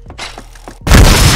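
A video game gunshot lands as a headshot: a sudden loud blast at about 0.85 s cuts in after quieter game noise and stays as a dense, ringing roar to the end.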